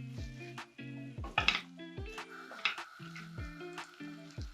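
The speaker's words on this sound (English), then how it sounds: "Can't wait to give it a good stir." Vegetable chow mein noodles are tossed and stirred in a hot pan, with a spatula clattering and scraping against the metal amid soft sizzling, in irregular close strokes.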